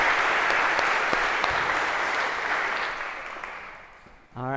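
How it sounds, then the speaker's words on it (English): A crowd applauds loudly and steadily for a few seconds, the clapping tapering off before a voice begins at the very end. "Big round of applause"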